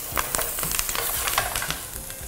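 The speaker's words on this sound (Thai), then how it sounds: "แล้วก็เอาผักลงไปผัดนะครับ" Chopped vegetables sizzle and crackle in a hot pan as they are stir-fried after browned bones are lifted out, with steady frying hiss and scattered scraping, stirring clatter throughout.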